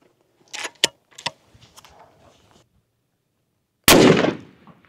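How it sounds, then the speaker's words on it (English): A single loud, sharp shot from a Sako 90 rifle cracks out and trails off in a long echo. It comes after a few small mechanical clicks and taps nearby. "All right, this is the last shot we got."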